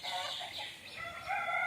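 Chickens cluck and call near a backyard coop as its doors are opened, a short burst of overlapping, fairly loud bird voices with no talking.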